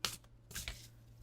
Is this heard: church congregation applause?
no